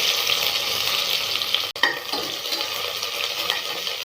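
Chopped onion sautéing in oil with cinnamon and cloves for mint rice, a loud steady close sizzle with stirring scrapes and one brief break where the spoon knocks the pan.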